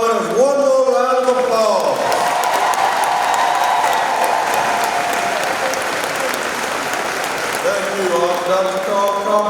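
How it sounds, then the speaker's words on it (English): A school-year welcome crowd gives teacher award winners a sustained round of applause, loud and continuous, with a voice speaking over it at the start and end. "All right, let's give all of our winners one more round of applause."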